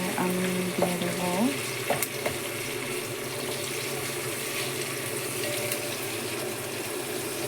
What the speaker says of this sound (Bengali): পেঁয়াজগুলো এখন ভেজে নিচ্ছি।